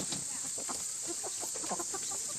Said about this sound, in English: There was like 2 chickens out here